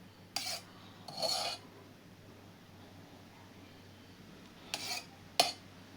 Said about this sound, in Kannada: ಇದನ್ನು ಗ್ಯಾಸು ಸಣ್ಣ ಇಟ್ಟು ಹುರಿಬೇಕು ನೋಡ್ರಿ.